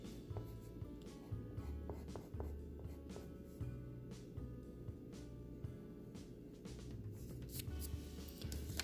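Sivo colored pencils in black scratch across paper while shading a succulent drawing. The short strokes repeat in an irregular rhythm, close and quiet, over a faint low hum.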